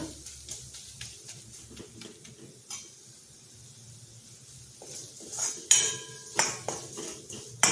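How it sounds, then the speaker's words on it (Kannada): A metal utensil mashes and mixes a curry in a pot, to be eaten with pav. Irregular clinks and soft thuds are followed by a quieter stretch, then sharper, louder knocks against the vessel near the end. "ಈ ಥರ ಚೆನ್ನಾಗಿ ಮ್ಯಾಶ್ ಮಾಡ್ತಾ ಮಾಡ್ತಾ ಕಲ್ಸೋಣ"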